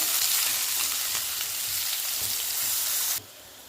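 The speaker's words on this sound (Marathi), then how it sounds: "एक मोठा कांदा बारीक चिरून घेतलेला आहे ते टाकून घ्यायचं" A large, finely chopped onion hits hot oil with spluttering cumin and mustard seeds, giving a loud, dense, steady sizzle that cuts off abruptly near the end, with no talking.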